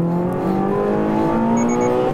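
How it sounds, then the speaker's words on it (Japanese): HKS-tuned Toyota GR86 accelerating hard on a racing circuit: a loud, continuous engine note climbs steadily in pitch through the rev range, close and alone with no talk. "アクセルオン。"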